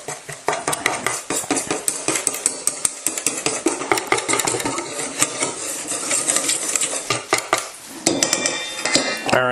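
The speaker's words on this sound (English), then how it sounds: "So whisk it we shall." Ingredients whisked briskly in a bowl, a fast run of sharp metallic clicks and scrapes against the sides, loud and close, going on steadily for several seconds.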